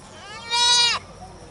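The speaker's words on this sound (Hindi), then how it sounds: "बकरी बजबो करे है" A goat gives a single loud, wavering bleat lasting about half a second. It stands out clearly against a quiet background, with no one talking.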